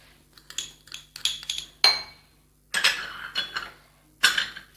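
A spoon mixes yogurt with ginger garlic paste in a bowl, producing a series of quiet, irregular metallic scrapes and clinks separated by short pauses, close up with no voices.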